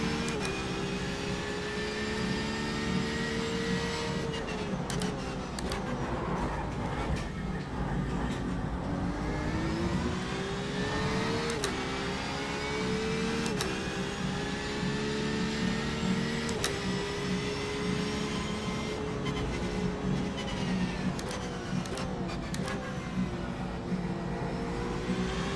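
Ferrari race car engines in the iRacing sim rise and fall as a steady, harmonic-rich drone. Pitch sweeps climb and dip through gear changes over a long stretch of track, broken by brief shift clicks, with no talking.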